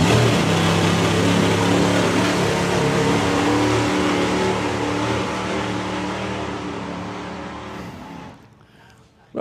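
A Cannonball car at a nostalgia drag racing event roars down the track under hard acceleration, loud and sustained for several seconds before the sound drops away abruptly.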